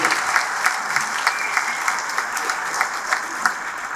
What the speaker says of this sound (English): Let's have another round of applause for our previous inductees.